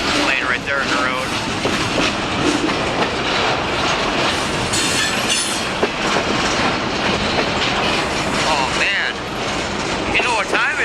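A long log-hauling freight train rolls steadily past nearby, its constant loud rumble carrying clickety-clack wheel beats and occasional squealing wheels throughout.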